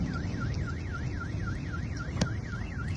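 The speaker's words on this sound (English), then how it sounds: "there's a famous Russian car alarm" A Russian car alarm wails in a fast up-and-down warble, steady and moderately distant, over low street rumble.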